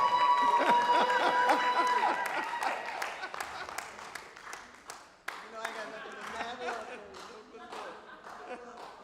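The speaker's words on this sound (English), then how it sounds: "So we want to bring her out with a thunderous round of applause." A large crowd applauds and cheers loudly, clapping steady and dense throughout, with whoops and shouts mixed in under a voice speaking over it.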